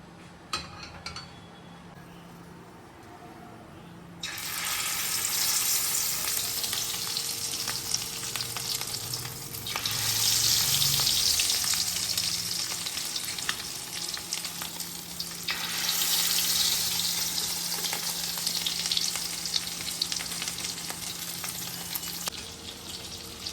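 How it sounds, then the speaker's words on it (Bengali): Pieces of fish roe frying in hot oil with salt and turmeric, a steady loud sizzle that swells and eases as the pieces are moved and turned, with occasional clinks of a utensil against the pan. "এখানে মাছের ডিম টুকরো টুকরো করে কেটে নিয়েছি লবণ হলুদ দিয়ে ভেজে তুলে নিই"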